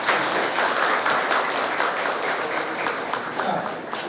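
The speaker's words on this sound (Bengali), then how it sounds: "আসুন আমরা উষ্ণ করতালির মাধ্যমে তাকে আন্তরিক অভ্যর্থনা জানাই" An audience at a university commemoration event applauds to welcome a minister, with dense, even clapping that holds steady and close for the full few seconds.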